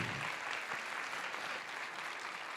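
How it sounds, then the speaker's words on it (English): Steady audience applause at a dyslexia center event, dense and continuous clapping from a room full of people, holding an even level throughout with no voices standing out. "So let's give her a round of applause,"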